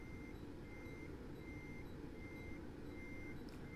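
Steady, evenly spaced reversing beeps sound from a truck backing up in American Truck Simulator, set in Iowa. They repeat over a constant low engine rumble.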